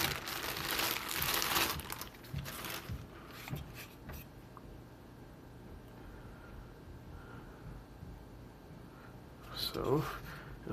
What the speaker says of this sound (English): Take it out of the plastic here.